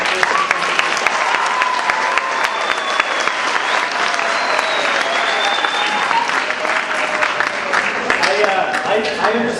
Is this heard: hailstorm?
no